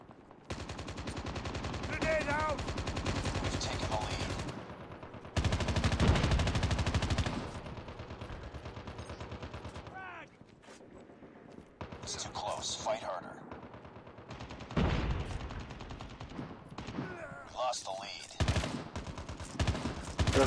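Call of Duty video game gunfire, repeated bursts of automatic fire and single shots crackling through the mix in clustered volleys separated by short pauses, loud and close at times.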